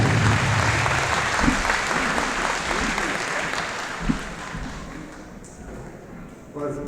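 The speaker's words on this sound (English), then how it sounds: "So I'd like to have a nice round of applause for, as we say, who's to Dr." Sustained applause from a graduation ceremony audience, a dense steady patter of many hands that fills the space, with talk mixed in, then tapers toward the end.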